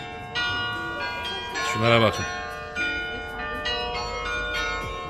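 A church bell tolls in the town of Delft in the Netherlands, a few clear strokes ringing out over street ambience while someone talks nearby.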